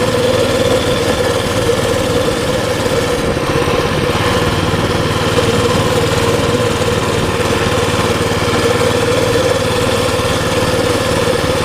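The small engine of a Baja Warrior mini bike runs for a ride across a front lawn. It makes a loud, steady, buzzing drone with no change in pitch, close and unbroken, and no one talks.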